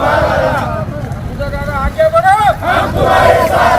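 Crowd celebrating in Mantha after a court verdict favouring the Shinde faction of Shiv Sena, a loud dense mass of shouting, cheering voices with one rising yell standing out midway, continuous throughout.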